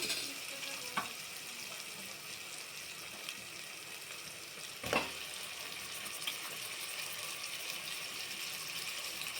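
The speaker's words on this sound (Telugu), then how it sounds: "అల్లం ఎల్లిగడ్డ పసుపు మంచిగా నూనెలో వేగాలి. ఇప్పుడు తలకాయ మాంసం వేద్దాము." Ginger, garlic and turmeric frying in oil for a goat head meat curry, a faint continuous sizzle with a couple of brief clatters, heard quietly and alone.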